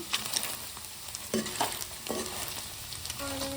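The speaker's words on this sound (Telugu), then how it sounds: "పన్నీర్ ముక్కలను మొత్తము ఆయిల్ బటరు నెయ్యి ఈ మూడు ఇందులో వేసి ఇదైతే పెంచండి గోల్డెన్ కలర్ వచ్చేదాకా" Paneer pieces fry in a mix of oil, butter and ghee in a pan, with a steady close sizzle and occasional stirring scrapes and no talking.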